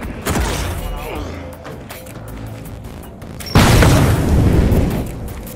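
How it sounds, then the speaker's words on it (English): Two loud explosions of red barrels in the video game The Finals, an early blast and then a bigger roaring burst that rumbles on, with a voice talking underneath. "In this specific instance, all of the barrels exploded."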